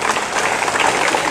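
Audience applause during a speech at an inter-school tennis cricket tournament, a short dense burst of many hands clapping steadily, close and fairly loud, with no voices.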